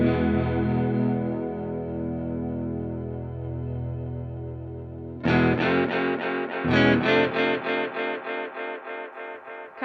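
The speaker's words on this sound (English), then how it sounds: "Kind of sounds like a bandpass filter" A Red Panda Raster 2 delay pedal processes a sustained tone into a narrow, bandpass-filtered wash, then a new note starts a string of rapid rhythmic repeats that slowly fade away.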